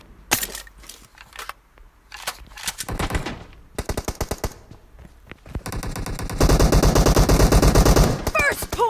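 Gunfire in a PUBG 4v4 match: scattered single shots give way to rapid automatic bursts and then a dense, loud, sustained volley, with some voices underneath.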